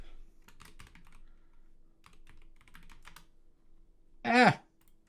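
Soft, sparse keystrokes on a computer keyboard tap out a short word in scattered clicks during spreadsheet data entry, then a louder, brief burst of other sound ends the sequence.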